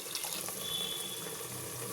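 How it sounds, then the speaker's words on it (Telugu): A little water is poured into a pan of frying masala, giving a brief, faint, steady splashing rush. "అలాగే కొద్దిగా వాటర్ వేసుకుందాం అండి"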